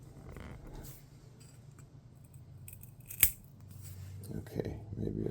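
A small piece of plastic is forced apart with a cutting tool, ending in one sharp snap as part of it breaks, close and quiet in a room with faint background rumble.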